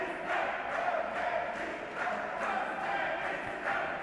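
Home crowd in a judo arena cheering for Turkish judoka Onur Tastan at an IBSA Judo World Grand Prix in Antalya, a steady, distant roar of massed voices with rhythmic swells, like chanting.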